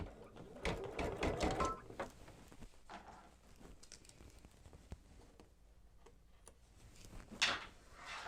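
A Babylock IQ Designer sewing machine stitches quilting in the hoop, its needle ticking in a quick steady patter that comes in bursts and fades between them, with a louder run near the end.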